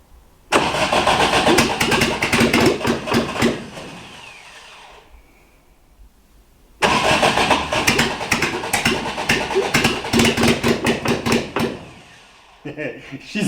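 Lotus 7 style Birkin kit car engine cranking and firing for the first time, two bursts of loud rough running close by, each dying away, with a voice talking briefly near the end.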